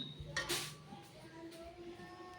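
Metal pots and utensils clink and clatter faintly as a pot of soaked rice is set down on the stove, a few sharp knocks followed by softer scrapes in a quiet home kitchen.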